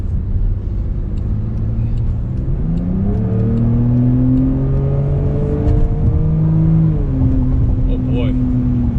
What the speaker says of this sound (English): Checking out the acceleration in the F-Pace.